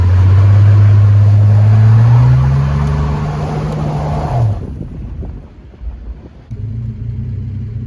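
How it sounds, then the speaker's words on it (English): A 1965 Plymouth Valiant with a slant six engine, idle set very rich, roars loud and close during a brake stand, its pitch climbing, then drops off to a rough, lumpy idle. "I heard you guys hate brake stands."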